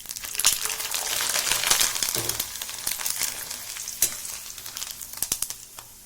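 Rice flour khichiya papad fries in oil in a kadhai, giving a loud close sizzle with crackling bursts that swell and then thin into scattered sharp pops and crinkles.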